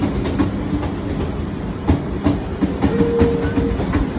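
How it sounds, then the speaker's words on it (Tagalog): A Railjet train, a German train, rolls along the rails toward Vienna with rhythmic clickety-clack of wheels over rail joints beneath a constant rumble of travel. "rail jet. So, this is German train from Germany."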